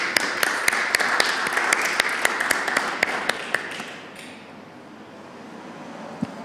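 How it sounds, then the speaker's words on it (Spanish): Applause for a presentation at a session of the Chilean Constitutional Convention's environment commission: a roomful of sustained clapping with a few louder claps standing out, fading away after about four seconds into quiet room tone. "Les damos un aplauso por la presentación nuevamente"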